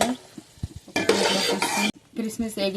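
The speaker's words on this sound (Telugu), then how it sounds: "కిస్మిస్ వేగినాయి" Raisins sizzle in hot fat in a pan, probably ghee for a sweet semolina dish, while a spoon stirs and scrapes against the metal in quick close strokes.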